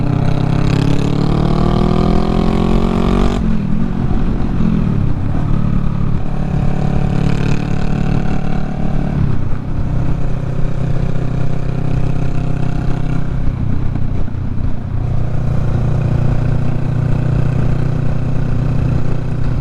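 A manual car's engine runs in gear after a downshift, a loud, steady droning hum with shifting tones and occasional shifts in engine pitch, heard from inside the cabin throughout.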